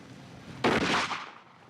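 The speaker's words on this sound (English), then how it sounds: "That was a slug you fired in that one." A shotgun slug fired outdoors at about 30 yards: one sharp, loud blast whose echo fades quickly, with no talking around it.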